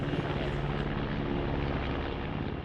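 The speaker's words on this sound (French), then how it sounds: "600 pompiers et 9 hélicoptères ont été mobilisés." A firefighting helicopter drones on steadily over a national park wildfire, with a loud, throbbing rotor and engine rumble that fills the whole moment.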